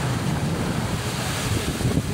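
Big ocean waves churning at sea around a fishing boat near its mother boat, a steady broadband roar of surf and wind buffeting the microphone throughout, close and loud with no talk.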